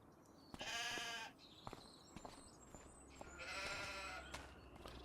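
Sheep on the Kinlaig highlands farm in Farming Simulator 25 give two drawn-out bleats a few seconds apart, soft and a little distant, over a quiet background with faint light footsteps.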